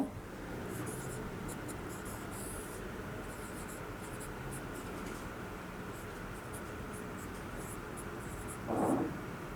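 Chalk or marker scratching across a board during a physics lecture on vectors, a quiet continuous scraping in short strokes with soft background hiss, plus a brief louder rustle near the end.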